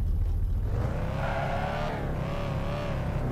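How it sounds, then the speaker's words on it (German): A car engine in the VR game Thief Simulator rumbles loudly and revs as the vehicle pulls away, a steady, close engine drone rising in pitch over a few seconds with no talk over it. "Starte den Motor, ja."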